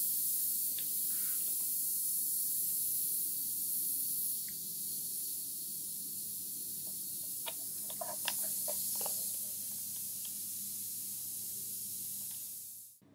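Pressurized air hisses out of a bottle through a bicycle valve in one steady, loud rush for about twelve seconds, with faint small ticks partway through, then it cuts off abruptly.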